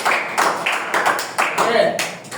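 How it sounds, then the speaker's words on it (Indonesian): A classroom of students claps for a classmate in a few uneven bursts, with a voice talking over the clapping. "tepuk tangan untuk Sando"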